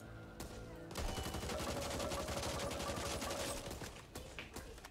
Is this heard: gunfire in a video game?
yes